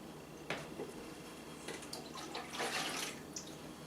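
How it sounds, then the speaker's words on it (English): Pink fruit liquid made from cherries, plums and strawberries being poured back into a jug for home brewing, a splashing, trickling pour with a few louder gushes and drips, close by, with no talking. "So we're just going to finish pouring this in."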